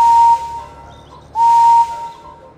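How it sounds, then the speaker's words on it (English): Two loud steady toots from Edward's engine whistle in a Thomas & Friends video game, each held about a third to half a second, separated by a pause, with no talking. "I have a splendid whistle."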